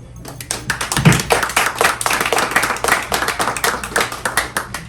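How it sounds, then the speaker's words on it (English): Audience members clap for Mrs. Virginia Ali at a gospel gathering, individual claps distinct and close in a fairly sparse, rhythmic pattern. "But today, we applaud you."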